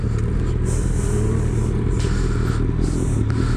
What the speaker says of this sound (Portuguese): Uma moto.